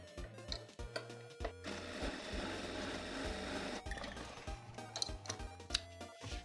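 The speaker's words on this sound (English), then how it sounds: "I'm just gonna stitch over that just a hair more, just to give it a little more durability" Sewing machine stitching over a patch on torn jeans to reinforce it, with short stuttering runs of the needle at the start and end and a steadier hum in the middle, close up.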